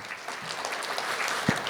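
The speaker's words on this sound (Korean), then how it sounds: "여러분 다시 한번 박수 부탁드리겠습니다." Brief applause from a seminar audience at a construction company's anniversary technical seminar, a soft, dense patter of clapping lasting under two seconds.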